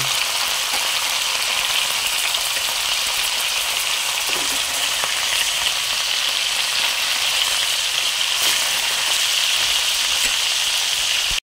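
Tamban fish fry in reused cooking oil, giving a loud, continuous, dense sizzle and crackle close to the pan. The sound holds steady for the whole stretch with no talking.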